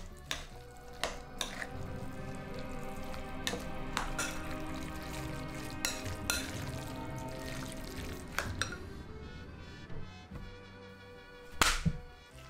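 Spoon scraping and clacking through a bowl of ranchero sauce mixed with cheddar cheese filling, with sharp repeated knocks at irregular intervals over a steady background, closing with a louder clatter near the end.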